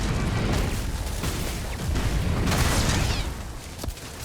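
Turrets fire in a sci-fi space shooter game, with dense, heavy rumbling blasts and booms that roll on without a break, the strongest bursts falling near the middle, and no talking over the barrage.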